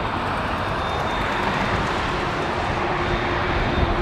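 Air Canada Boeing 787-9 airliner at Toronto Pearson airport, a steady, loud broadband jet roar with a faint whine, continuous throughout.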